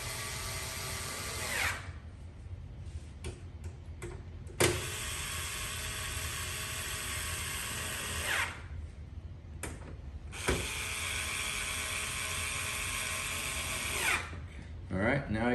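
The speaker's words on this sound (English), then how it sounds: "I usually just tighten up these bolts on the bottom, not real tight, but just tight enough that they're going to hold the base on well" A power driver tightens bolts to mount the base onto a vintage Accuphase wooden case, giving three long, loud whirring bursts separated by short pauses with small clicks and handling noises.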